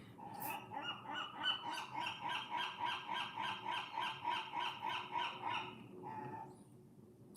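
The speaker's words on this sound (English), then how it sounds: "I think that's a seagull." Rapid rhythmic honking calls from a bird the speaker takes for a seagull, about fifteen evenly spaced loud cries in a steady run that stops near the end, with no talk over it.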